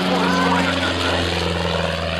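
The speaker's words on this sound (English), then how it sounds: "He takes the airplane right on the top of the loop, snaps the airplane around, and calls this the avalanche." A propeller aerobatic airplane performs a loop and snap roll at an air fair, its engine a steady droning hum with a wavering pitch, heard at a distance under the ambient air and an announcer's commentary.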